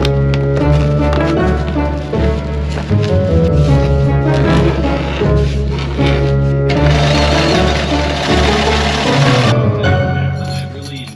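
A sewing machine stitches edging onto a large fabric aft cockpit curtain, running loud and continuous in fast rhythmic bursts with short pauses.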